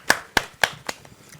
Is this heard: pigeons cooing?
no